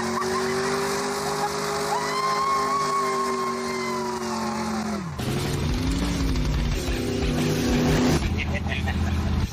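A Ford Falcon driving on the open road, its engine droning at steady revs before dropping sharply and picking up again, loud and close with wind and road noise.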